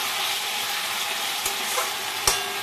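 Small fish with vegetables and chopped tomato fry in a pan, a dense steady sizzle close up, broken by a couple of sharp clicks from stirring.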